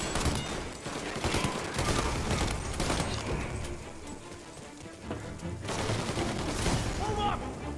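Gunfire in the video game Mafia Definitive Edition: sustained, dense rattling of many shots blending into a continuous roar, with heavier bursts near the start and end. Shouting voices are heard over it.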